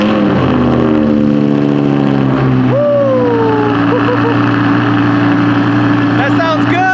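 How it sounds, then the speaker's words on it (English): A straight-piped Audi R8 engine cold-starting, a loud close mechanical churn that bursts into a rising rev and then settles into a rumbling idle with further blips, with voices talking over it. "we're about to get the first cold start on this"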